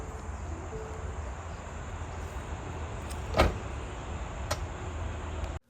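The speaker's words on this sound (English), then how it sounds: "To close the trunk, just push the button." The power tailgate of a 2022 Lincoln Navigator Black Label L closes: a low motor hum runs, then a solid thud and a lighter click as it latches, with the motor cutting off at the end.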